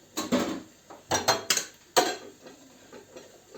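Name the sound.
stirring boiling cherry juice and sugar syrup in a pot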